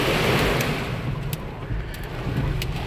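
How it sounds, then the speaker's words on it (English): Heavy rain pours hard during a thunderstorm, a dense, constant roaring wash of water close by, with gusty wind whipping through trees and no talk. "It's just pouring."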